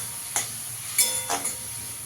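Chilli powder spice paste with a splash of water sizzles softly in a pan for a Bengali rui fish curry, with a few brief scraping stirs breaking through a faint, steady hiss.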